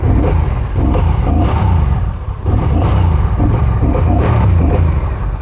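A Honda Rebel 1100's two-cylinder, 270-degree-crank engine rumbles steadily at close range, a deep throbbing idle with slight swells in loudness and no one speaking.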